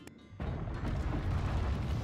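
A huge animated explosion erupts after a brief quiet moment, a deep rumbling roar with heavy low-end that keeps churning loudly to the end.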